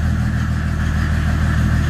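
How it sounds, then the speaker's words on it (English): A diesel OM606 engine in a 4x4 Renault Trafic/Vauxhall Vivaro campervan hums steadily at a mid pitch as it changes gears, a continuous close drone with no speech. "You can actually hear the engine changing."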